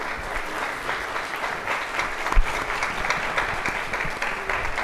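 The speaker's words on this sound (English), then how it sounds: "Everybody give him a big round of applause." Crowd applause after a live debate, a continuous even wash of many people clapping for the whole stretch, with one brief thump partway through.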